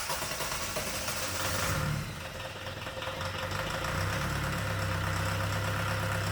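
A cold VW diesel engine swapped into a Chevy S-10 pickup runs with a faint, steady clattering rumble. There is a brief shift in tone partway through, and the engine then settles into a low, even idle.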